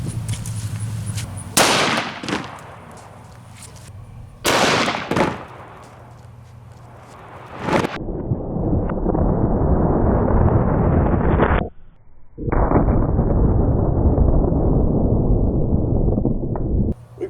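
Loud, sharp 10mm Underwood Xtreme Hunter pistol gunshots fired outdoors at a coconut, two distinct blasts a few seconds apart, followed by long stretches of heavy wind buffeting the microphone.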